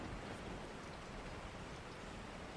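Steady rain falling as an audio drama sound effect, a soft, continuous broadband hiss of drops with no pauses, faint and even throughout, no voices.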